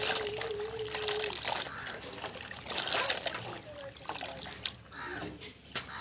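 Sem bean seeds are washed and strained in water, giving soft, close trickling and small splashes that run on and off throughout.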